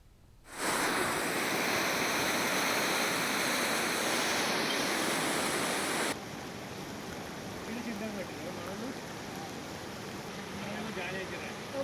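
Floodwater after an overnight cloudburst rushes near Nagireddipalli in Yadadri Bhuvanagiri district, a loud steady roar for several seconds that drops abruptly to a softer, continuous rushing flow.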